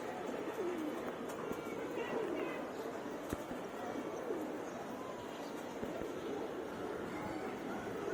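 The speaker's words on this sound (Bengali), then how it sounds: "এই যে কতগুলা কবুতর" Pigeons coo softly at a rooftop loft as a storm approaches, the low calls blending into a steady wash of wind and outdoor noise throughout.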